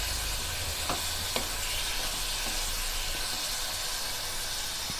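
Paneer shallow frying in a pan while being stirred, a steady loud sizzle with a few scattered scraping clicks from the spatula, no talking.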